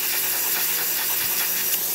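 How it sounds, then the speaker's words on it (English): The steam wand of an Andreja Premium espresso machine hisses steadily and powerfully, a loud continuous rush with no pauses and no voices. "Steam of this machine."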